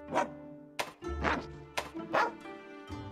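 Dog-voice character barks in Monster Hunter Rise: several close, distinct woofs with short gaps between them, plus a few soft thumps and a low whimpering tone.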